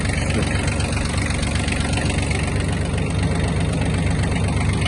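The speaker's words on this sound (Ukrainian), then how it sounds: "Можемо звісно кидати газу. і ножі почнуть крутитись." A Kubota B1-17 mini tractor engine runs with its mower blades engaged, a loud, steady, close diesel drone with a constant rough rumble throughout and no talk.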